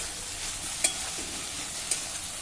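Tomato and bell pepper sautéing in a pan, a steady close sizzle with two brief utensil clicks against the metal and no voices.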